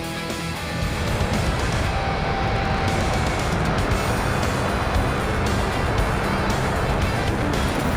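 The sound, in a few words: jet launch with afterburners in the video game Flyout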